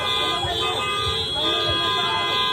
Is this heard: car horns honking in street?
yes